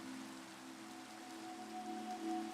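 Rain in the video game Minecraft, a faint steady hiss of falling drops with low sustained tones droning beneath, quiet and continuous with no talking.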